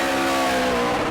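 A Super Late Model race car on a qualifying lap at New Smyrna roars past with a loud, strained engine note, close and continuous for about a second.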